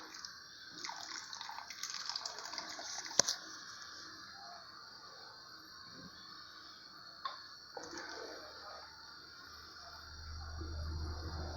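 Lemon juice dribbles into heated milk while village cheese is being made, giving faint dripping and trickling liquid sounds with a soft clink, all quiet and close, with no talking.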